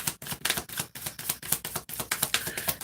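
Tarot cards being shuffled by hand, a rapid run of crisp riffling flutters and soft slaps in quick irregular rhythm, close and fairly quiet.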